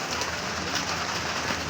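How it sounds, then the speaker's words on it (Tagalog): Heavy rain during a typhoon, a steady dense hiss of rainfall pouring down continuously with no pauses. "Malakas yung umuulan na."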